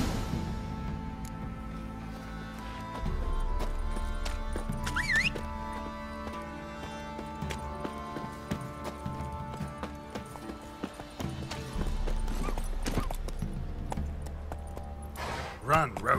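A horse gallops along a path in The Witcher 3 Next Gen, rhythmic clip-clop hoofbeats carrying on steadily under game music, with short stretches of character dialogue over the running.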